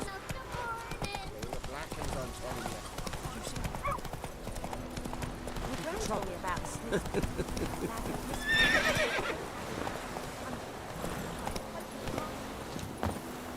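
Roach the horse trots in The Witcher 3, rhythmic hoof clip-clops with a whinny partway through, mixed under game music and someone talking.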